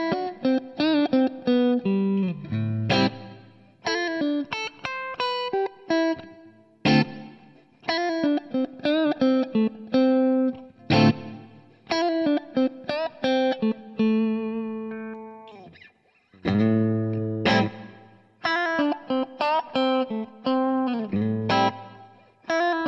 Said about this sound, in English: let's do the two out of phase, positions 2 and 4 respectively